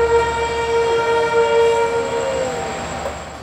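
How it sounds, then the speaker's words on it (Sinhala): A passenger train pulls out of Colombo Fort station bound for Kankesanthurai in Sri Lanka, a steady loud rumble of rail cars with a sustained horn tone running through the whole stretch, no voices. "කංකසන්තුරේ බලා දහවනය කෙරෙන දුම්රිය කොළඹ කොටුවෙන් අද උදෑසන 5:45ට ගමන් ආරම්භ"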